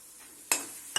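A spoon stirs cream and kasuri methi into a pan of paneer butter masala over a faint simmering sizzle, with two sharp scrapes against the pan close by and no talking.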